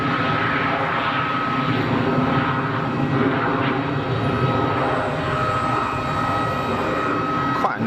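A Pilatus PC-24 business jet taking off at full throttle from Geneva Airport produces a loud, sustained engine roar with a whining tone, steady and close, while someone talks over it.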